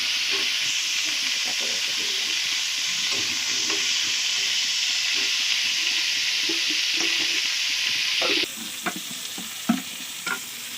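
Sliced onions dropped into hot oil with cumin, sizzling loudly and steadily in a pan, then easing to a softer fry near the end with a few utensil knocks as they are stirred.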